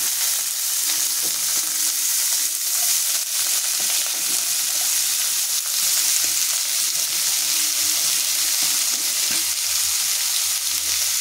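Sliced bitter gourd fries in hot oil in a kadhai wok, a loud, continuous sizzle with soft stirring scrapes running evenly throughout.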